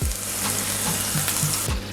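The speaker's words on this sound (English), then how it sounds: "I'm going to let that saute for a few seconds" Blended green seasoning sautés in coconut oil in a hot skillet for Jamaican steamed fish with okra, giving a loud, continuous sizzle with a few soft stirring scrapes and no talking.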